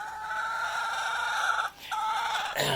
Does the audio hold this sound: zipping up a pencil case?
no